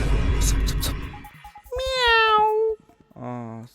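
A cat gives two clear, drawn-out meows close by, heard right after a stretch of people talking.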